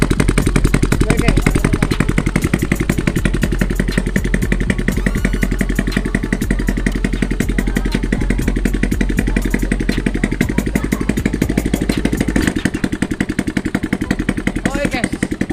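A motorcycle engine with no exhaust muffler is warmed up and revved close by, giving a loud, raw, rapidly pulsing roar that runs steadily throughout.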